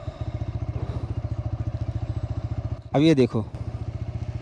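A TVS Raider 125 ABS motorcycle with a 125cc engine idles steadily with rapid, even pulses, close up, while someone speaks briefly over it.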